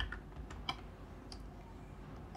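Someone types on a computer keyboard while coding a Python GUI app, a handful of soft, scattered key clicks over a quiet room hum.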